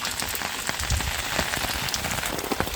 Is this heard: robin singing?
no